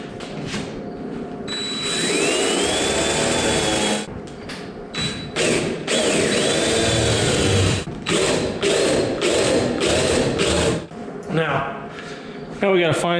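Power drill boring hood-pin holes through a MasterSbilt dirt late model body panel in a shop, loud whining bursts starting and stopping repeatedly, with workshop clatter and some voices in between.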